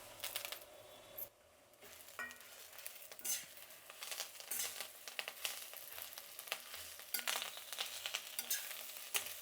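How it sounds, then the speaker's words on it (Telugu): Curry leaves frying in hot oil along with dried coconut, a quiet crackling sizzle broken by repeated clinks and scrapes of a metal spoon against the pan, uneven and close. "ఇప్పుడు మనం కరివేపాకు వేసుకుందాము."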